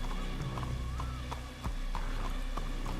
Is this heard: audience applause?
no